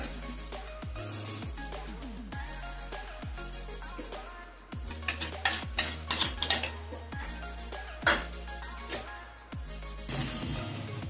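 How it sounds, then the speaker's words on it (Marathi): A spoon stirs mango halwa in a pan, scraping and knocking against the metal in repeated close clinks at an uneven rhythm. "आणि हलवा छान चम्मचने फिरून घेते।"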